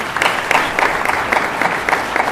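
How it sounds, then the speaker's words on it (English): Audience applauding for an education panel, a steady rush of clapping with rhythmic pulses lasting the whole stretch, fairly loud and close. "Let's give our panelists a big round of applause."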